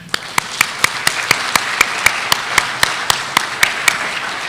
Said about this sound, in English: So join me in recognizing and applauding Mr. Brian True